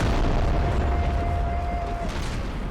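Cannon fire in an Empire Total War battle, heard as low, rumbling booms that blend into a steady roar of distant battle noise.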